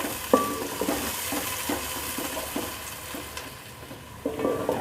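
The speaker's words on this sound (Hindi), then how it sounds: "प्याज को हमने उस वक्त तक फ्राई करना है जब तक ये हल्की हल्की सुनहरी हो जाए" Sliced onions frying in a pan for a bong recipe, a continuous sizzle with repeated stirring scrapes and clinks from a utensil against the pan.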